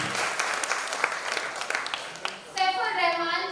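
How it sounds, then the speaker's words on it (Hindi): Audience applause at a children's singing competition grand finale in Mumbai greets an introduced guest, with dense clapping throughout and a host's voice speaking over the last second. "जोरदार तालियां।"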